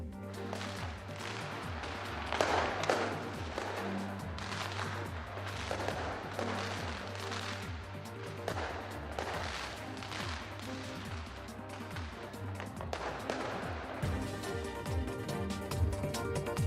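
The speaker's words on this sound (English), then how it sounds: "New Zealand rings the new year with massive firework display" A massive New Year fireworks display in New Zealand sends repeated booming bursts and crackling reports in an uneven, dense barrage, loud and continuous, with the explosions overlapping one another.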